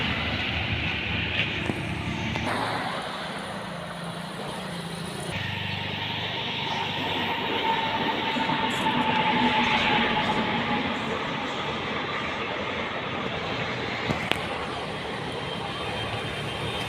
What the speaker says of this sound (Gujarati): અત્યારે ટ્રેન પણ આપણી વચ્ચેથી પસાર થઈ રહી છે